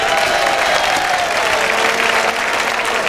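Steady applause from a crowd at the opening ceremony of the 20th Copa Santa youth sports tournament in Pineda de Mar, continuous clapping filling the whole stretch at a fairly loud, even level with no speech.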